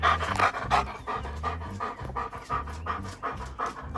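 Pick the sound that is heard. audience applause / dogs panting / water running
dogs panting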